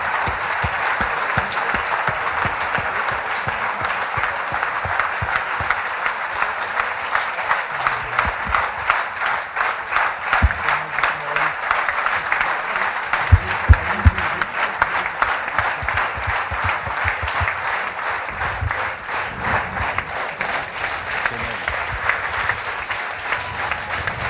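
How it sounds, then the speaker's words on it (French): Audience at a Paris conference clapping loudly and steadily for a speaker, a dense sustained ovation with a slight swell in the middle. "Je pense qu'on peut l'applaudir très fort,"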